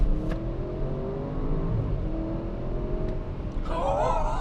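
A 2020 Audi RS6 Avant accelerating hard, its engine droning steadily as it pulls and then rising in pitch near the end, heard from inside the car with no talking.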